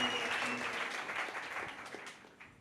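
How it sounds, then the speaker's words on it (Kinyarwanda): Audience applause at a sermon by a reverend, a broad wash of many hands clapping that stays steady and fairly close before slowly thinning out toward the end. "tugukomeye amashyi kuko uri igisubizo mu izina ryawe."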